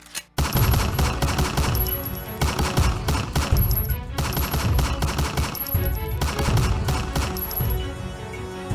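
Sustained bursts of gunfire from an attacking group in a Bogura comedy drama scene, loud rapid shots rattling continuously with dense broadband cracks and background music, no talk.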